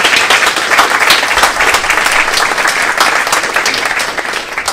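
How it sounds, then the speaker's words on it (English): An audience at an organ donation Q&A panel applauds the speakers, a dense, loud, continuous wash of many hands clapping that holds steady for several seconds before easing slightly at the end. "So can we have a great warm applause for all the speakers?"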